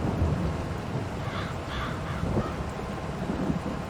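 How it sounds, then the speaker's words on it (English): Rolling thunder from the Farming Simulator 22 weather system rumbles low and continuous through a stormy ambience on the Elm Creek map, with faint bird calls and a rain-like hiss layered above it. "Rolling thunder."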